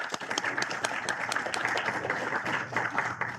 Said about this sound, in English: let's applaud them and invite them to present.